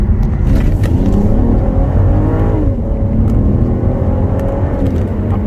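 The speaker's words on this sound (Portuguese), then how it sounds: "A patadinha que o carro dá" A 2014 Volvo V60 T6 R-Design accelerates hard in Performance mode, its engine note rising and shifting in a loud, close, continuous drone heard from inside the car.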